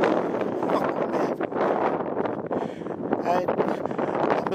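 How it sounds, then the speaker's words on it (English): Strong gusting wind on Mount Washington's rocky alpine slopes buffets the microphone in a steady, loud roar, with a voice talking faintly under the noise. "the wind is knocking me over. It's so windy."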